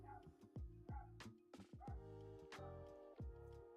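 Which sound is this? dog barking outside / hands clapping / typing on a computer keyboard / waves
dog barking outside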